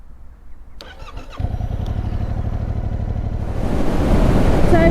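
A 2021 Yamaha MT-07 motorcycle starts with the key: a short starter whir, then the engine catches into a steady close idle that swells louder near the end.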